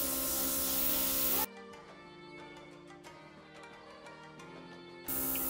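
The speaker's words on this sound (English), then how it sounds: "I'm not used to airbrushing my lips, but this doesn't look half bad." Airbrush spraying make-up onto lips as part of a Na'vi avatar face transformation, heard as a steady close hiss that cuts out midway and returns near the end.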